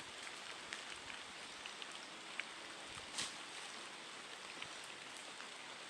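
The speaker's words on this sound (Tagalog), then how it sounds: "Ulan agad." Rain falls as a faint, even hiss with occasional soft drop ticks and no voices.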